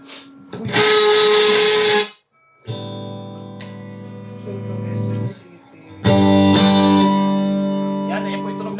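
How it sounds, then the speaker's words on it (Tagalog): Electric guitar played through an amplifier, sounding in sustained harmonic-rich chords that ring out in three bursts with brief gaps, close and fairly loud. "ayan po yung tunog ng amp nyo"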